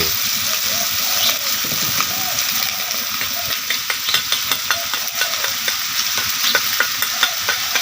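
Frog meat fries in hot oil and is stirred, a loud, continuous hissing sizzle with a series of sharp spatula scrapes and taps; a voice murmurs briefly near the start.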